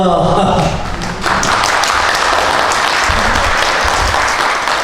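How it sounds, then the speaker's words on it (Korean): An audience applauds to welcome a lecturer at a Korean Liberation Day and founding anniversary ceremony, with loud, dense clapping and a few thumps under a speaking voice at the start. "여러분들 힘찬 박수로 우리 강사님을 환영해 주시기 바랍니다"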